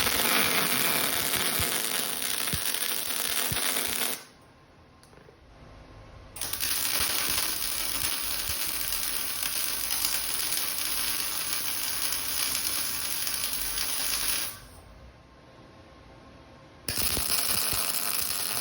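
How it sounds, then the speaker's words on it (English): Tack welds on heavy steel tubing for a console table crackle and sizzle in long continuous bursts, broken by two brief quieter pauses, close and fairly loud with no voices. "I'm going to weld all these members up just enough so that I can move this thing around"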